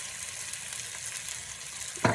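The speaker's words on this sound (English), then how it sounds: "Fry it on a medium heat." Oil sizzles steadily in a pan while Mongolian beef fries over medium heat, a close, even hiss ending in a short louder burst of stirring.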